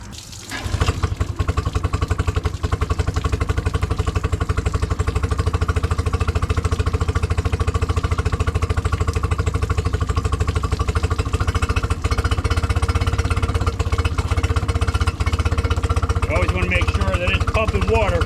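An outboard boat motor on a trailered boat with a water hose attached for cooling starts up and runs, giving a loud, steady, rattling engine drone that continues for the whole stretch with little change.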